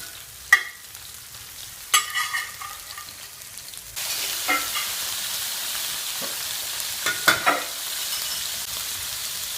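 Seafood for a paella fries in hot oil, a steady sizzle that jumps louder partway through, with occasional clinks and stirring scrapes in the pan and no talking.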